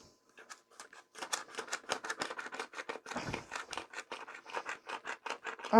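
A credit card scrapes across a cutting mat in quick, rhythmic, rasping strokes, close and clear with no talking, the pace picking up into a steady run of short scratches.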